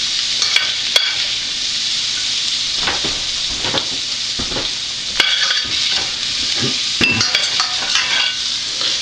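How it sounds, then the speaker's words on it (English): Sausage sizzles in a frying pan with a steady hiss, broken by scrapes and clinks of a utensil stirring against the pan. "once you get the sausage fried up"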